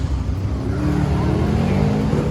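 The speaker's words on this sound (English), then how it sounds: "he's gonna do the burnout" Small-tire no-prep drag car at Darlington Dragway doing a burnout without reverse or trans brake, a loud, steady, dense engine roar held close throughout with no break.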